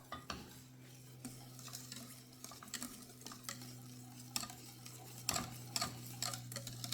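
Pastry cream with butter being stirred in a pan produces soft, irregular scraping and clinking of a utensil against the pan over a steady low hum, fairly faint and with no talking.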